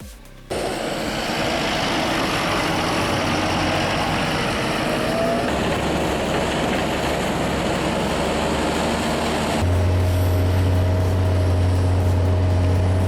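A snow plow truck's diesel engine runs steadily in the winter Allgäu Alps, a loud continuous rumble that deepens into a heavier low drone partway through.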